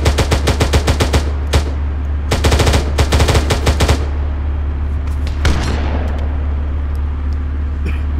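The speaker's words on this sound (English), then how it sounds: "Nice shotgunning there." Shotgun fire in the military shooter ArmA 3: loud, rapid bursts of shots over the first few seconds, then a few scattered single blasts fading into a steady low engine-like hum.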